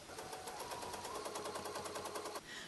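Bernina 830 sewing machine stitching with a ruler foot, a fast, steady mechanical rattle of needle strokes running close and continuous before stopping abruptly near the end.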